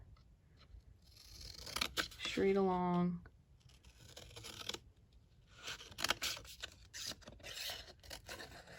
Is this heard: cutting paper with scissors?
yes